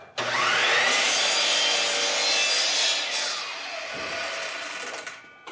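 A saw cuts steadily through a clamped wooden blank for a segmented three-layer Celtic knot woodturning project, a loud, continuous rasping buzz that holds for several seconds before easing and tapering off near the end.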